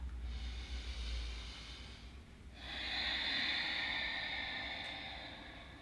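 A long, slow nasal breath during a yoga exercise, first a soft inhale, a brief pause, then a fuller, breathier exhale that fades gently, close and quiet.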